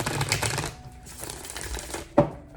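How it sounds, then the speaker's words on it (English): A Druid Craft tarot deck being shuffled by hand gives close, papery riffling and flicking sounds in quick bursts, ending with a sharp card snap. "I'm going to get started shuffling."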